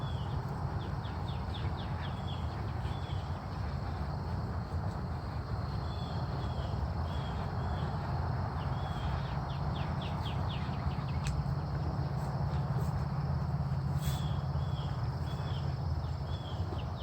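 Birds calling at a bird sanctuary, with repeated high chirps and trills over a steady broadband outdoor din, fairly loud and close throughout with no talking.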